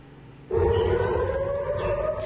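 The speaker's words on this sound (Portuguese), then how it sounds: "A sirene tocou bem cedo na cidade israelense." An air raid siren in Tel Aviv during a Hamas rocket attack starts abruptly and holds a steady rising wail, loud and distant-sounding over low rumbling background noise.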